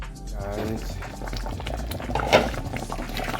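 Corned beef brisket simmering in a pot of boiling liquid, a steady low bubbling burble with a few louder pops near the middle, close by, no talking.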